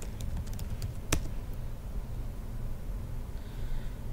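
A search is typed on a computer keyboard, with light, quick key taps and one sharper click, sitting over a steady background hum.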